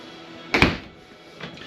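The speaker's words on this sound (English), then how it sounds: "Slide out drawers." A slide-out drawer in the kitchen of a 2025 Grand Design Solitude 380FL RV rolls and closes with a single quick sliding thunk, close and moderate, followed by a fainter bump a moment later.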